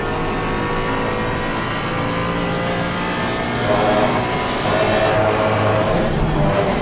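GT3 race cars, including a McLaren and a Mercedes, battle through the opening turns at Barcelona in Assetto Corsa Competizione. Dense, continuous engine roar with overlapping revs, growing louder as the cars accelerate out of a corner.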